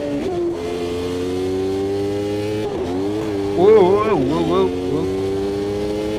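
An F1 car engine in Automobilista 2 holds a steady high drone, then revs sharply up and down through a gear change with the tyres protesting; a man exclaims briefly over the loud engine.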